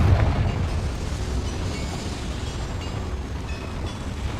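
A Confringo fire spell blasts a boiler apart in the Hogwarts Legacy video game, a deep rumbling explosion that starts heavy and settles into a sustained low roar with crackling debris.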